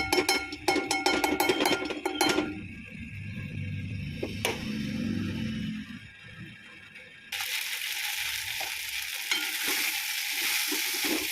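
Idli curry being stirred and fried in a hot kadai with a little ghee, with spoon scrapes and clinks early on, then a steady broadband sizzle taking over near the end, close and moderately loud with no talk.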